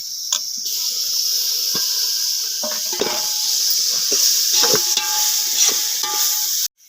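Tomato dropped into a frying pan of homemade red masala, a steady bright sizzle with stirring scrapes and a few sharp clinks, close and continuous for several seconds before cutting off abruptly at the end.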